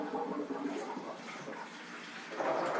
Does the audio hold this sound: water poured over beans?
yes